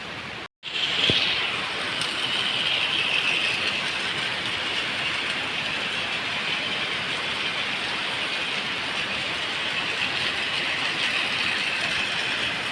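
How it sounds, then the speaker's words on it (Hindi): A Rail King toy train engine runs steadily around a complete round plastic track, giving a continuous close mechanical whir and rattle with no talking. "आप देख सकते हैं कंप्लीट राउंड ट्रैक है और इस पर ये इंजन बहुत ही अच्छे तरीके से मूव कर रहा है"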